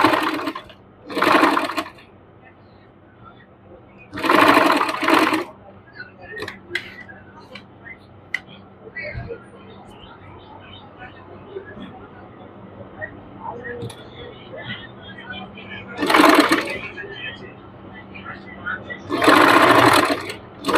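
A sewing machine stitches trouser hem piping in short bursts, four loud whirring runs separated by quieter handling sounds and someone talking between them.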